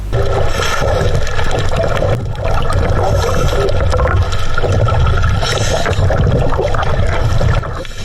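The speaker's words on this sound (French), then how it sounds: "On voit que la puissance des vagues qui s'écrasent est assez inconfortable." Powerful waves crash and churn continuously, a loud, dense rushing wash of water that holds steady throughout with brief dips, heard close and with no talking.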